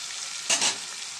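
A pan of curry ingredients fries with salt added, making a steady, close hiss, and one short burst of stirring scrapes brightens the sizzle midway; no one speaks.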